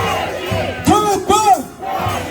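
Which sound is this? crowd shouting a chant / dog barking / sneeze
crowd shouting a chant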